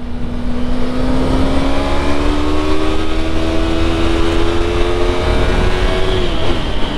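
A motorcycle engine accelerates hard through a bend on a road ride, a loud close rising drone with steady wind roar and no talk.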